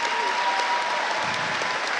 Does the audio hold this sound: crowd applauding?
yes